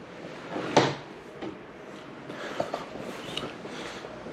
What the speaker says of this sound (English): Oh, close the door.